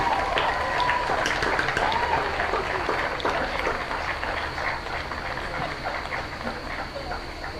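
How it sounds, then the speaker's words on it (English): Sustained crowd applause for the seniors at a boys' high school soccer senior night, dense steady clapping that fades slightly toward the end, with faint cheers mixed in. "one final round of applause for all of our seniors this evening"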